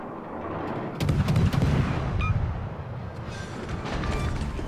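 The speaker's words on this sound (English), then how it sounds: "Taking some return fire." Naval gunfire comes in against a Pan-European tier-6 destroyer in World of Warships: a cluster of deep, booming shots around the one-second mark, then lighter cracks over a steady rumble of sea and engine, with no voices.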